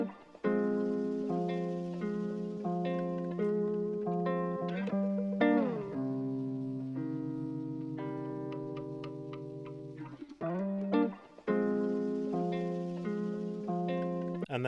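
A jazzy drum and bass loop built from a chopped classical guitar sample, with bright repeating plucked notes, a sustained middle chord section, and effected, slightly distorted tones, with a few brief gaps between repeats.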